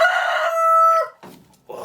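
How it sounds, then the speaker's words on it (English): A homestead hen sings her egg song after laying, a loud close run of drawn-out cackling calls followed by two shorter clucks. "Hear the chicken in the background? It's laying an egg."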